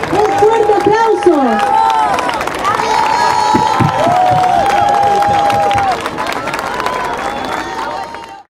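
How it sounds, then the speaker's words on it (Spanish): A crowd at a parents' event applauds and cheers loudly with whistles and shouts, a dense, sustained ovation that holds for several seconds and then tapers off near the end. "Un fuerte aplauso."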